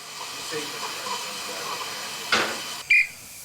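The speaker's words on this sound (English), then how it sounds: "Oh, it's a steam train." A short burst of steam hiss from a steam train cuts through a low rumbling background, followed moments later by a brief high-pitched whistle tone.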